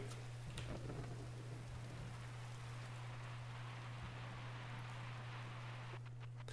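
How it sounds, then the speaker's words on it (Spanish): Steady roaring rain storm in the colony-management video game Diluvian Winds, with a constant low drone beneath dense hissing rain and a few faint rumbling thunder swells, continuous and fairly loud with no talk. "La tormenta ruge."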